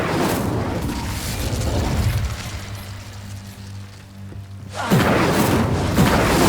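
Spells such as Expelliarmus and Incendio cast in Hogwarts Legacy, giving loud booming bursts with rumbling low thuds, a quieter stretch of hum in the middle, then another heavy blast near the end.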